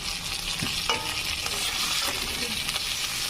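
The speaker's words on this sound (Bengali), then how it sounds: "সব ভালোভাবে কষিয়ে নেব।" Spices with ginger paste and garlic paste sautéing in a pan for a Bengali hilsa-head and water spinach curry, a steady close sizzle with a few brief scrapes of stirring throughout.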